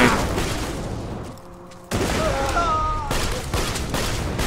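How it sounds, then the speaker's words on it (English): A grenade going off in the video game Borderlands 2, a loud blast of broadband noise that fades, then another burst of explosive noise mixed with gunfire-like crackle. "Grenade."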